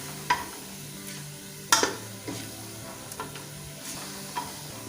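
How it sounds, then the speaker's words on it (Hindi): Tomatoes sizzle softly in a hot pan while a spoon scrapes and stirs them in occasional sharp clinks, close and fairly quiet, with no talking. "अच्छे से इसको भूनते जाएं कि टमाटर अच्छे से गल जाएं।"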